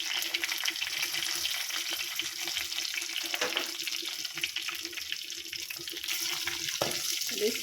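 Garlic and curry leaves frying in hot oil for a tamarind-flavoured amaranth-leaf sambar, a steady close crackling sizzle with occasional stirring clinks, continuous throughout with no talking.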